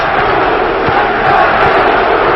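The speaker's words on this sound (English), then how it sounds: "it's a happy crowd near capacity at this old arena tonight in St. Louis, Missouri" A near-capacity crowd in an old hockey arena in St. Louis roars steadily after a Blues goal in a playoff game against Toronto, a loud, dense wall of cheering with no break.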